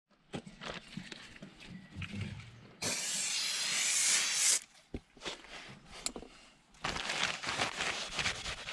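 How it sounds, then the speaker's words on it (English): Brake cleaner sprayed onto new front brake discs and pads of a 2007 R56 Mini Cooper: a loud, steady hiss of almost two seconds, set between scattered clicks, knocks and handling noises. "I'll just give them a quick clean off with some decent brake cleaner"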